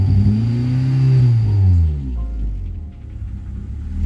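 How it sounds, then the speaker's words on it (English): A Honda car engine with a VTEC solenoid fault revs under throttle, then bogs and sinks toward stalling, loud and close, ending in a low rough idle. "When I try to give it gas, it's just wanting to bog out and die"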